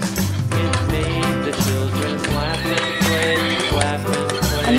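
A toy horse neighs loudly over a bouncy electronic tune, its whinny repeating against steady music with no pause.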